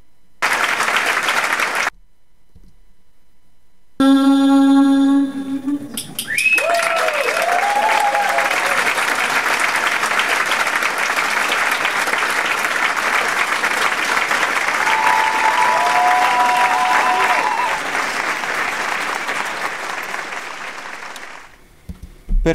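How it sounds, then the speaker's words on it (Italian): Applause sound effect added in Logic Pro X: after a short gap and a few tonal bursts, a long, dense crowd applause swells in and holds steady for many seconds beneath occasional faint tones, then cuts off abruptly. "possiamo vedere gli applausi che abbiamo inserito."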